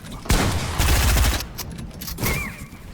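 Enemy gunfire in a shooter video game: loud, rapid volleys for about a second and a half, then a pause and a few more scattered shots close by.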